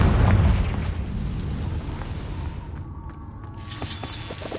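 A Confringo blasting-curse spell in Hogwarts Legacy, cast inside a cave, sets off a heavy booming explosion whose low rumble rolls on and slowly fades, with faint hum and crackle near the end.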